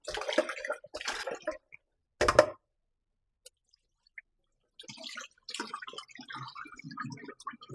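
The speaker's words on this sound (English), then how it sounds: "So I just have to rinse them off before I blend them." Bursts of splashing, running water with a brief louder gush as ginger is rinsed, pauses of near silence between rinses.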